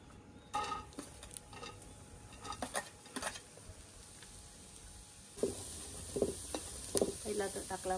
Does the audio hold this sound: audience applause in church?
no